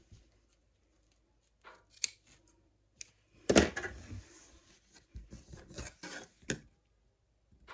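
Scissors snipping into fabric corners for a small sewing pouch, a few quiet, separate cuts and rustles at close range in an otherwise quiet room.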